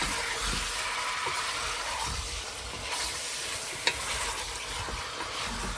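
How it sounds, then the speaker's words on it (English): Duck bhuna sizzles and fries steadily in a hot pan while a utensil stirs it, a continuous close hiss with soft scraping and one brief sharp clink near the end. "So just giving it a good stir."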